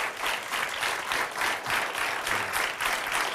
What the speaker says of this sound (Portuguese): é por isso que aqui está o Dr. Ângelo Rebelo, para quem peço um aplauso